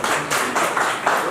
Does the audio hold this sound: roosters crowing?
no